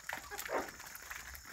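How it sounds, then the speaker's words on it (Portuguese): Puppies at a rural home with chickens nearby, eating while small yips and whimpers rise briefly over rustling background noise, with a faint voice. "os cachorrinhos tá ali"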